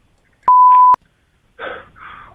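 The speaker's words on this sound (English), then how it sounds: "Get ready after the beep." A single loud electronic beep lasting about half a second, followed after a pause by a short, faint vocal sound.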